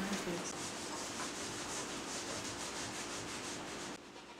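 Whole wheat and rye bread dough being rounded by hand on a work surface makes a soft, steady rubbing and brushing sound, close and faint, continuing evenly before easing off near the end.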